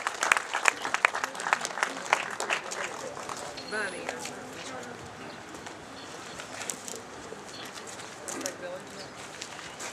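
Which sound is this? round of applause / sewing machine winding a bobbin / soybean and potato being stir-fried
round of applause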